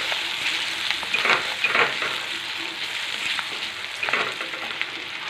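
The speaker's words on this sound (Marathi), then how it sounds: "टोमॅटो पण छान तेलामध्ये मिक्स करून घ्यायचा।" Chopped tomato frying in oil for a spicy green field bean curry: a steady close sizzle with bright crackles and a few stirring scrapes throughout, no voices.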